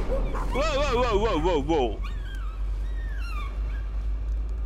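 Dog in the horror video game Layers of Fear: a close burst of yips and whimpering barks over about two seconds, followed by fainter whining cries, with a voice briefly exclaiming.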